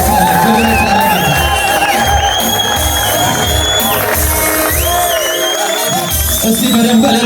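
An Ethiopian church congregation ululates, cheers and applauds at a worship conference, a dense, loud, continuous wall of high trilling voices and crowd noise with a preacher's voice partly mixed in.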